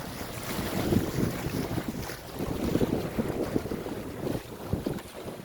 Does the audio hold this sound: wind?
yes